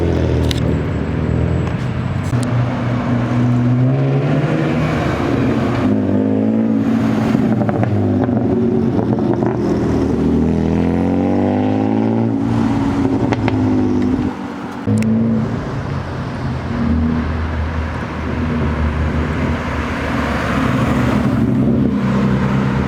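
BMW E36 328i convertible engine revving loudly and close, rising and falling through sustained throttle sweeps with crackling exhaust pops between pulls, no talk heard.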